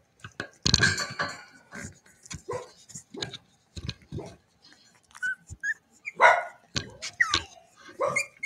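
Cavalier puppies playing indoors give short, scattered yips and barks, near and fairly loud, with whimpering squeaks between them and a person talking at times.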